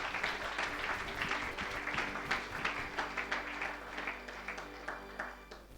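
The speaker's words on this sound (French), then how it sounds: "Acclamons le Seigneur très fort" A church congregation applauds, a dense run of hand claps that rises and falls in rhythmic pulses and carries on steadily for several seconds.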